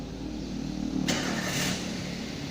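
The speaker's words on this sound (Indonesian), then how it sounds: "Pasang alat, kemudian nyalakan mesin." Daihatsu car engine starting up during an EFI scanner diagnosis, a steady close idle hum with a brief brighter burst partway through, no talking.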